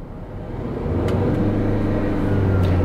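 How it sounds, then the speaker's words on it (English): A car's engine revs up under acceleration during a NOx sensor check, its low hum rising and steadying into a loud, sustained drone with a clear tonal note. "Now let's accelerate."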